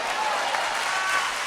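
Audience applauding inside a church talk setting, a dense steady wash of clapping that fills the whole short moment at moderate level, with faint voice traces mixed in.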